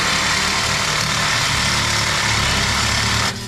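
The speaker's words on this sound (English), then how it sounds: "new sawzall, new blade, fresh battery. Let's cut." A new cordless Sawzall reciprocating saw with a fresh blade cutting through a Toyota truck's cab floor and core support, a loud, dense buzzing rasp sustained at close range that stops abruptly near the end.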